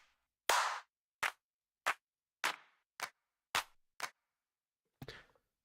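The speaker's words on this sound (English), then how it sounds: "Claps." Eight crisp, dry electronic clap samples sound one after another in an Ableton 12 session, evenly spaced and punchy against silence, the last slightly softer and smeared.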